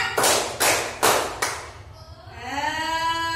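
Four sharp hand claps in a steady rhythm ring out in a classroom focus game, followed by a voice speaking.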